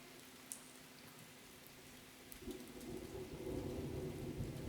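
Rain and rolling thunder from a stage play's sound effects, a steady wash of rainfall that swells louder partway through, with a low rumble building underneath and no voices.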